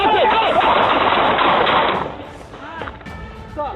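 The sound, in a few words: gunshots fired during a police confrontation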